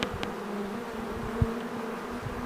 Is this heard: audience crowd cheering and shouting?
no